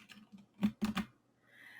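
A few quick clicks on a computer keyboard sound as a shortcut is typed, close and faint, in a quiet room with no talk.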